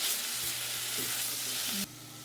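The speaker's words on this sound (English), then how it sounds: "I heated the oil and added onions and pepper" Onions and pepper fry in hot oil with a steady, loud, close hiss and crackle that drops abruptly to a quieter sizzle near the end.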